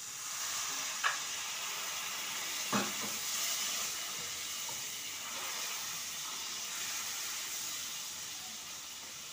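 A soft, steady sizzle rises from a hot pan of ridged gourd curry with egg filling as a little water goes in, with a couple of brief louder spits and hisses early on over a continuous low frying hiss.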